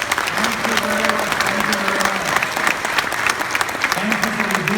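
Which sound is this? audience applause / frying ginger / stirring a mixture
audience applause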